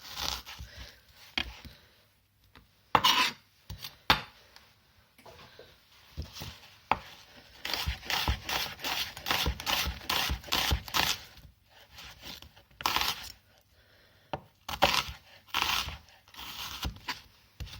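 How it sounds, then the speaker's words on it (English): A kitchen knife that needs sharpening slices an onion into thin strips on a board, making a close, quiet run of irregular crisp cuts and scrapes that quicken into steady rhythmic chopping. "So nice thin strips of onion."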